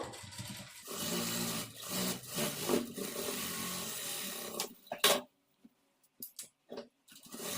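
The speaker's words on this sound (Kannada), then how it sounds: "ಇಲ್ಲಿ ನಾನು ಇದರ ಪಕ್ಕದಲ್ಲೇ ಒಂದು ಮೂರು ಸ್ಟಿಚ್ಚನ್ನು ಹಾಕ್ಕೊಳ್ತೀನಿ" A sewing machine stitches a blouse side seam in short, close bursts of needle clatter separated by brief silent pauses.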